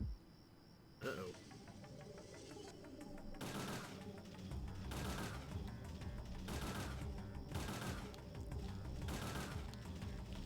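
Gunfire in Parasite Eve II on Nightmare Mode, a sharp shot followed by repeated loud bursts of automatic fire at a steady rhythm over game background noise.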